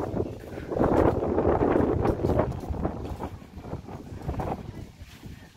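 Strong wind buffets the microphone outdoors in Taplejung, Nepal, a steady broadband roar with gusts that swell and ease, while people's voices are heard through it.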